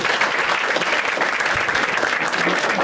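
Crowd at a live Marathi stand-up comedy show claps in a steady, even wash of applause that stays dense and constant throughout, with no voice cutting through.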